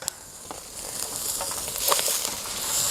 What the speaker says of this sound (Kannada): ಇಷ್ಟು ಹಾಕಿ ಚೆನ್ನಾಗಿ ಹುರ್ಕೋಬೇಕು. ಇದಕ್ಕೆ ಟೊಮೆಟೊ, ಕೊತ್ತಂಬರಿ, ಪುದೀನ